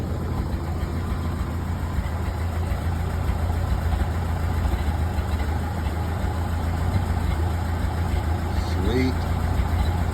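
A Model A Ford with a freshly reworked engine idles steadily, its exhaust a low, even rumble close by, and a voice speaks a single word over it.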